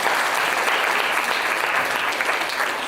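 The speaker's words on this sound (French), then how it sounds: "Est-ce que vous pouvez l'applaudir, s'il vous plaît?" An audience at a student excellence ceremony applauds a student with dense, sustained clapping that stays loud and even for the whole stretch, with no voices standing out.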